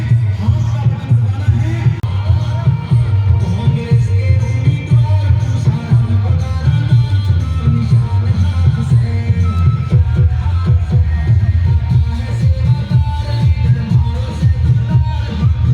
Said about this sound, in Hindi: देखिए भीड़ उमड़ रही है स्वागत में।